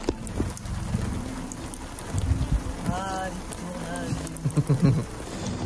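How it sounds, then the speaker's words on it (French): Rain and a thunderstorm in a video game: a steady, heavy downpour hisses throughout with low rumbling and brief tonal game effects, while people talk over it. "on se prend le gros de la pluie là"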